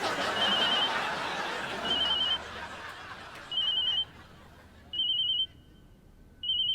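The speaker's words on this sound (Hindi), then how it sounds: "आपका फोन बज रहा है।" A telephone rings in short repeated electronic bursts, fairly loud, with chatter and laughter fading out early on.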